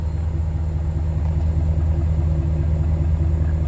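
A warmed-up truck engine rumbles steadily through its exhaust pipes at idle, a low, constant drone close by with no speech over it.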